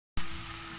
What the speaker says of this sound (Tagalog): hintayin lang natin siyang mag-brown ng kaunti